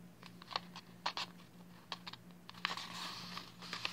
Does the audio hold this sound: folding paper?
yes